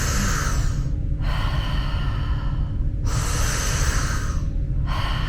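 Slow chest breaths during a guided breathwork exercise, three long airy breaths separated by brief pauses, close and steady with a constant low background hum, no talking.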